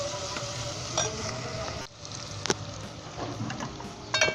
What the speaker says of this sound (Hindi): हल्दी, नमक, मिर्च और ज़ीरा भी डाल दें और इसे अच्छे तरीके से 5 से 10 मिनट के लिए भून लें।